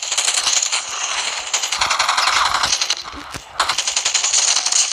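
Gunfire in a Call of Duty video game comes as a dense, loud stream of rapid automatic shots with a metallic rattle. It breaks off briefly near the end, then resumes just as hard.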